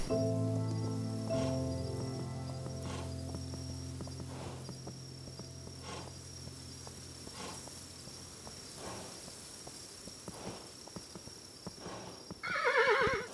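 A horse whinnies loudly at the start in the Kingdom Two Crowns video game, then its hooves clip-clop in a steady rhythm over a bed of chirping crickets, with a brief bright chime near the end.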